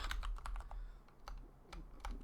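Rapid, uneven keystrokes on a computer keyboard, close and fairly quiet, in bursts with short pauses while someone types code into a Godot 4 project.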